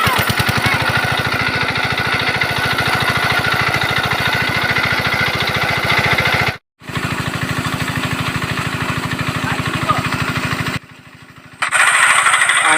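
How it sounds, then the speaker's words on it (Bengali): A diesel water pump drains a village pond before the fish are caught. It gives a loud, steady, rumbling engine drone that throbs without pause, with a couple of brief cut-outs. "তো আজ আমরা আমাদের পুকুরেতে মাছ ধরবো, সেই জন্য পুকুরের জল মেশিন দিয়ে ছিঁচা হবে।"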